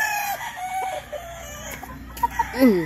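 Gamefowl roosters, young stags tethered on a game farm, clucking and calling close by over steady rustling farm ambience, with a couple of sharp squawks near the end.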